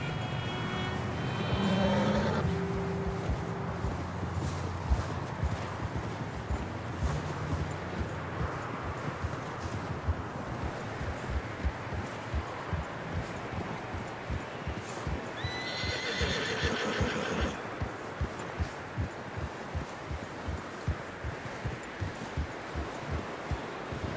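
Horses from the Red Dead Redemption 2 game clip-clop at a steady walking rhythm, with a loud whinny near the start and another neigh in the middle, close and clear over a muffled outdoor background.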